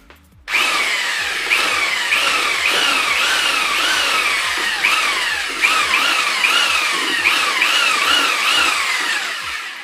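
A sturdy hammer-style drill churning a thick mix for carp boilie bait, close and loud, its motor whine rising and falling in steady repeated strokes for the whole stretch without any talk.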